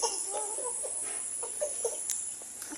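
Chickens cluck softly and repeatedly in short, scattered calls on a small backyard mini farm, set against a steady high-pitched background drone.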